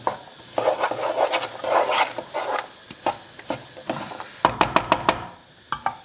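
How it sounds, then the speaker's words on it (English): A spoon stirs garlic and ginger into a curry base in a pan, giving scraping, rubbing strokes followed by a burst of sharp clacking taps against the pan, close and with no talking. "I'm just giving that a stir through so we get everything coated"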